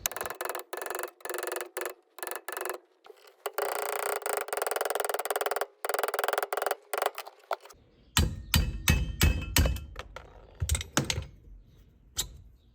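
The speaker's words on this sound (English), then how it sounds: "Carefully hammer out the shifter retainer pin using a center punch." A 1961 Ford Thunderbird shifter retainer pin is hammered out with a center punch, a series of sharp metallic taps in uneven bursts, some rapid and some spaced, close and fairly loud with quiet gaps between.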